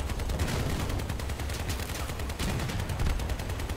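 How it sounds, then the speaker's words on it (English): Dense, continuous gunfire roars from vehicle weapons in the video game Crossout, a loud sustained barrage of rapid shots with no pauses. "you shoot them, people like this, you shoot them."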